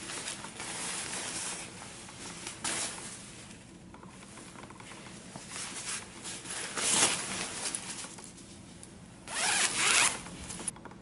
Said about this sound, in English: I like the fact that you can unzip this zipper at the bottom to free your feet.